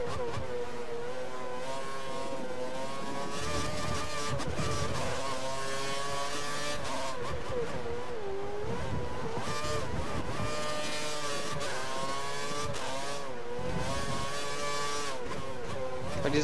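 Formula One race car engine in the game F1 2013 at the Hungaroring in Hungary, a loud high-pitched whine rising and falling through gear changes and revs, constant and close, with other cars faintly around.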